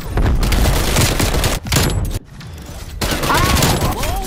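Dense, sustained video game gunfire crackles in rapid volleys for several seconds, nearly continuous with a brief pause midway, loud and up close, while players shout over it.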